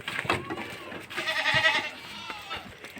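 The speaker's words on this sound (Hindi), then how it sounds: "यहाँ पर इसके अंदर रखी है बकरी, बकरी के छोटे छोटे बकरी के बच्चे" Goats and small goat kids bleat in a village shed, giving several overlapping, wavering cries close by over quiet background rustle.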